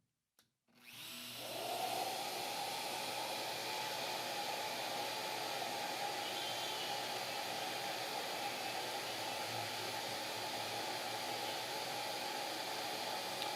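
A router fitted with micro bits pockets out a guitar headstock for a mother of pearl inlay, a sustained high-pitched whine that starts abruptly after a brief click and holds steady and fairly loud.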